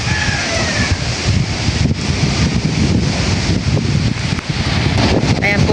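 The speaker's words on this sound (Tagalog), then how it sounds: "dito po sa tabing dagat ay sobrang pong lakas ng hangin at grabing ah, lakas din po ng alon" Strong wind buffets the microphone in a steady roar at the seashore, with strong waves rumbling underneath throughout.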